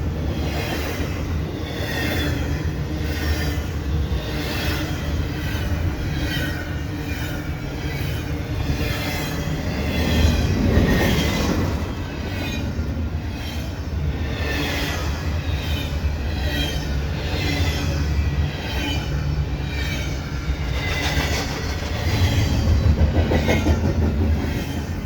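CP eastbound freight stack train passing a station in winter, close and loud, with a steady rumble, rhythmic clickety-clack of wheels and high squealing throughout.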